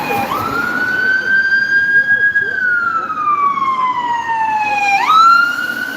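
A loud, close ambulance siren wails in long rising and falling sweeps, one slow cycle then a sharp jump back up, over low traffic rumble, in Dublin.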